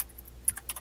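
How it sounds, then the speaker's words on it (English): Several crisp keystrokes on a clicky computer keyboard tap out close to the microphone in a quick irregular burst over quiet background. "Oh yeah, I got a clicky keyboard."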